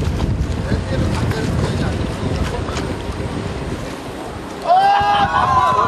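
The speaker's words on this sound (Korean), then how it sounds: "드디어 바나나 보트 출발!" A banana boat speeding across a lake, with strong wind rushing over the microphone and churning spray; a high whine rises near the end.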